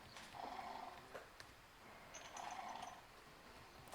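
Horse in the video game Legacy of Rosemond Hill whinnies and snorts twice, a moderate distance off, with a quiet rustling background between the calls.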